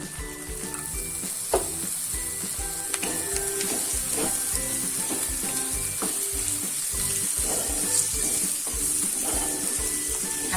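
Cut potatoes fry in spiced masala for garlic pauva, a steady hiss of oil under repeated scraping and stirring strokes, with occasional louder knocks against the pan.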